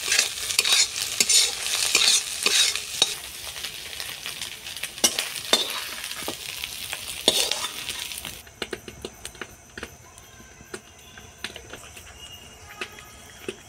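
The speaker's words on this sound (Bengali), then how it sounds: "তেলের উপর দিয়ে দিলাম পেঁয়াজ।" Onions going into hot oil on the stove for a Bengali-style pasta, sizzling loudly with repeated scraping strokes of a stirring spoon for most of the stretch, then settling to a quieter, steady frying hiss near the end.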